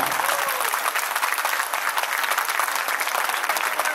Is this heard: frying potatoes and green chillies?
no